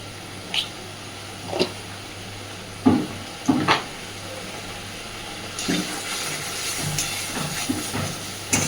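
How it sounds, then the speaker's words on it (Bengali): A spice paste for Bengali koi fish in oil sizzles in a pan with a soft continuous hiss, broken by occasional sharper spits and pops, moderately faint and without talk. "সুন্দরভাবে মশলাটাকে এবার কষাতে থাকবে"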